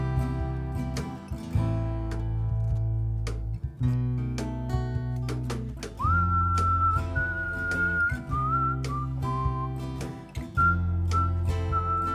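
Someone whistles a slow melody over a steady musical accompaniment, clear and up close, with sustained notes that slide between pitches.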